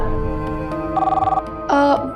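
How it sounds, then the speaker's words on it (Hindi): A mobile phone ringtone plays a repeating electronic melody, loud and close, with bright tonal bursts pulsing in a steady pattern for a couple of seconds. "किसका फोन है?"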